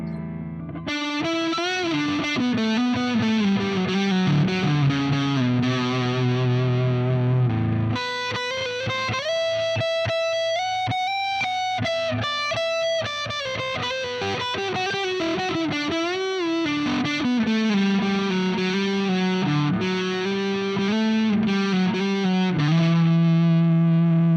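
A distorted electric guitar on its neck pickup plays sustained chords and riffs through a crunchy Marshall JCM2000 TSL60 amp, continuous and loud with a warm, rounded tone.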